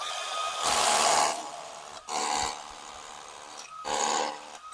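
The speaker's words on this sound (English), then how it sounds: "I'm going to drill this with my hammer drill" Hammer drill bursts: three loud grinding runs of about a second each, separated by short pauses, close by, drilling a post hole for a tiki bar.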